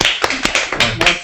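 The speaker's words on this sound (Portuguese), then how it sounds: "Talvez aplaudir." A small group claps at the close of a Wing Chun memorial day gathering, a short burst of a few loud, close, uneven claps lasting just over a second.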